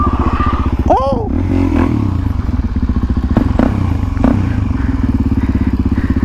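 A dirt bike engine idles loud and close in a fast, steady putter, with a brief rev and some clattering thumps, while a voice speaks over it near the start.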